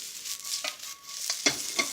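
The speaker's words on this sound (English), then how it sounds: "we're going to start stir frying those vegetables" Vegetables with garlic and ginger stir-fried in a hot pan, with a soft sizzle under several scraping, clattering stirring strokes, close and fairly quiet, with no talking.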